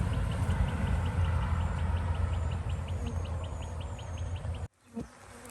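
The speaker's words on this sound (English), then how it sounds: "there's still more bees coming out from time to time" A steady, dense hum of many honeybees buzzing nearby at a tree during a hive trap-out, continuous for several seconds before a sudden bump cuts it off.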